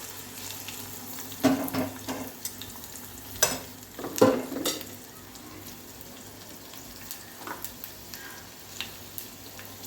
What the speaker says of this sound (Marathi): दोन मिनिट परतून घ्यायचे थोड्याशा मिरच्या.